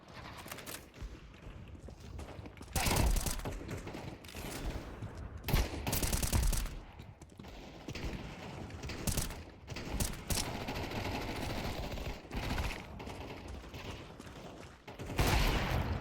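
Game gunfire comes in repeated bursts and rapid volleys from a tournament quarter-final match, loud and dense across the whole stretch with several sharp peaks.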